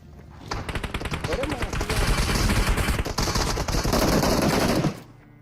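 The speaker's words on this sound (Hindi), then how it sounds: "लेकिन भाई फायर होता है गंदा वाला" Dense, rapid automatic gunfire from an AKM rifle in a PUBG-style battle royale match, sustained bursts cracking loudly and continuously for several seconds before cutting off, with a voice faintly under it.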